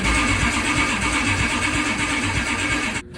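A Ferrari 360, left unused through a wet winter, cranks over with a steady loud starter whir and rough engine chatter, then cuts off abruptly at the end.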